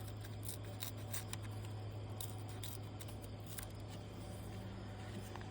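Scissors trim paper for a receipt book pocket, close and quiet snips repeating through the clip over a low steady room hum.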